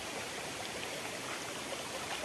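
A flowing river stream, a steady broadband rush of water that continues at an even, moderate level with no voices over it.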